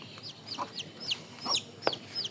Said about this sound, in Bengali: আর এখানে যে আমার মুরগির বাচ্চা আছে